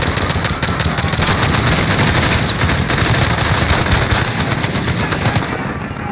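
Sustained automatic gunfire in the video game Modern Warfare 2019, dense rapid bursts of rifle and machine-gun shots rattling loudly and without break for several seconds.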